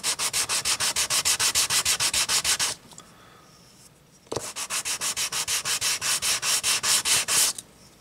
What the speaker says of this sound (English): And then you just take a piece of sandpaper.